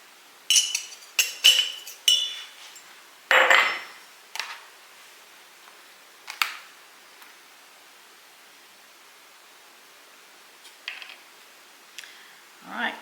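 Brown sugar stirred right in the pan as part of an Asian plum sauce, with a few sharp metallic clinks and scrapes of a utensil against the pan early on, then sparse light taps amid quiet.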